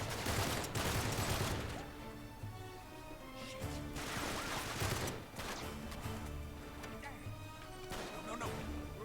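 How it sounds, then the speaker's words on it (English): Rapid booms and crashing blasts from grenades exploding in Uncharted 3, layered with a constant game soundtrack and effects, loud and dense throughout the whole stretch. "No, no, no. Stop throwing grenades at me!"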